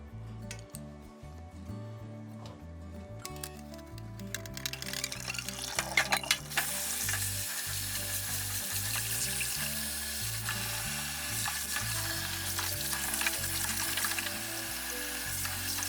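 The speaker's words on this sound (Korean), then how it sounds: "도미머리를 데치실 땐 불을 끈 상태에서 도미머리를 넣어주시고 살이 하얗게 일어날 때까지 데친 뒤" A sea bream head is blanched in hot water with the heat switched off, giving a steady low bubbling and watery hiss with faint clinks from a utensil, close and continuous, no voices.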